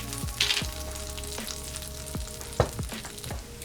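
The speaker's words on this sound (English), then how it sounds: "So now we're going to add our tortilla strips." Salted tortilla strips frying in oil in a pan for chicken tortilla soup, a continuous close sizzle broken by several sharp spits and scrapes.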